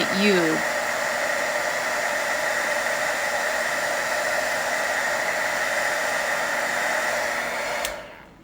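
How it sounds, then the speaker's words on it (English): A heat gun blows a steady, loud broadband whoosh while melting embossing powder, running continuously and evenly for several seconds before cutting off near the end. "You can watch it melt once it gets heated up."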